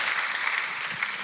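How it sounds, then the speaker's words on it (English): Steady applause from an audience at a panel discussion on human genetic engineering ethics, dense clapping throughout a brief moment with no pauses. "Great, round of applause."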